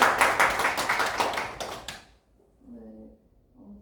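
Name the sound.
audience clapping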